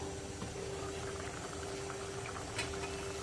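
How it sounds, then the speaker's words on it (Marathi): Mixed fish curry with Aagri spices bubbles steadily in a pot on a medium flame, a soft, continuous boiling hiss and gurgle, quiet and close, with no voices. "मस्त उकळी आलेली आहे आणि मस्त कालवण शिजलेलं आहे"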